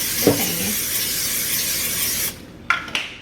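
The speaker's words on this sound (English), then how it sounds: "we're going to get our butter spray" A continuous hiss of butter cooking spray into a pan runs for a couple of seconds, then stops, followed by two short spray bursts.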